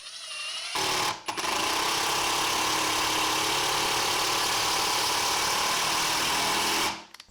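Hitachi triple-hammer impact driver driving screws without pilot holes, a loud sustained mechanical whir and hammering that runs steadily for about six seconds, alone, then stops abruptly.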